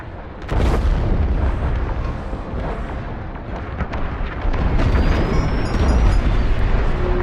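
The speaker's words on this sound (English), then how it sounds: "The frigate is about to explode." A frigate exploding in the Star Wars Squadrons video game, a loud, sustained rumbling blast that bursts in after a brief lead-in, with crackling debris and a thin whine rising near the end.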